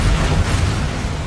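The Bombarda spell in Hogwarts Legacy detonates with a loud, dense explosive blast, a heavy low-end rumble and roar sustained across a little over a second, close and overpowering.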